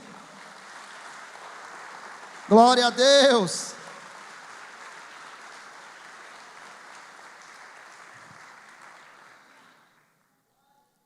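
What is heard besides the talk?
congregation applauding in church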